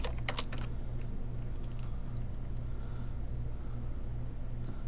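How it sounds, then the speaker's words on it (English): Keys on a computer keyboard are typed in a quick, uneven patter at close range, set against a steady low electrical hum from a computer setup, with no voices. "I'm not catting a file, I'm just typing."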